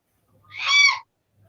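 A pet bird lets out a single harsh squawk lasting under a second, close and loud against an otherwise quiet room.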